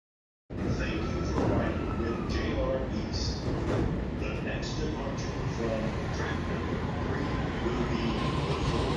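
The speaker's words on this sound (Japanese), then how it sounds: "その後、電車の音声しか流れてこない。" A train rumbles steadily throughout, loud and continuous with rolling wheel noise and occasional squeals, starting abruptly after a brief silence.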